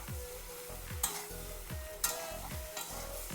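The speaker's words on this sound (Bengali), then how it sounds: "এখন দিয়ে দেবে যে ভেন্ডি আর কুমড়োটা, এটা দিয়ে বেশ ভালো করে মিলিয়ে দেব" Okra and pumpkin stirred into oil in a frying pan, steady sizzling with repeated rhythmic scrapes of the spatula against the pan and a few sharp knocks, close and alone.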